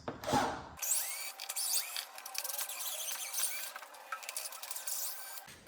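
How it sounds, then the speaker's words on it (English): Small right-angle Torx driver working T25 Torx bolts on a top panel of a BMW F800 motorcycle, giving a close, continuous scraping, squeaky ratcheting sound with irregular clicks, alone, after a brief opening noise. "So I just use a small little right angle Torx driver with a bit in there to get that undone."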